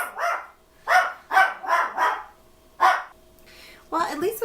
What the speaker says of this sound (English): when Digger barks, it gives me a chance to drink some wine